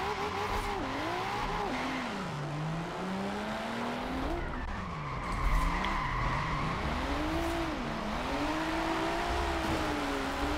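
Car drifting in Forza Horizon 4 on a train yard track, driven with a Logitech G920 wheel: revving engine tones sweep up and down continuously beneath a steady hiss of skidding, squealing tires, with a louder burst midway.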